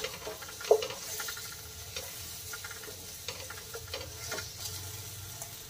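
Chili powder and spices roast in oil in a pan for Kolhapuri misal, a soft continuous sizzle broken by repeated light spoon taps and stirring scrapes, with one clearer knock early on.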